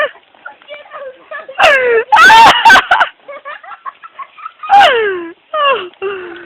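A dog whimpers and yelps in high, wavering whines, several bursts close by, with people talking in between.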